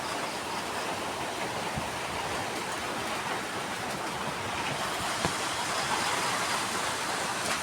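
Dense, even hiss of heavy rain, steady and unbroken throughout, with no voices.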